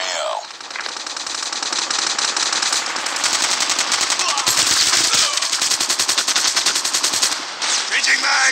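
Call of Duty Mobile gunfire: rapid automatic bursts rattle on loud and close for several seconds, with brief breaks between volleys.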